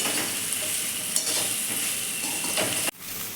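Masala idli is stirred in a hot pan, giving a continuous close sizzle with scraping stir strokes, ending in a sharp knock and a brief drop before the frying resumes.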